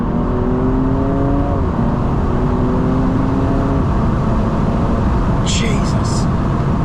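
A BMW M235i engine in Sport Plus mode climbs loudly in pitch, steps down at a gear change, climbs again, then eases off, all over heavy road and wind roar inside the car.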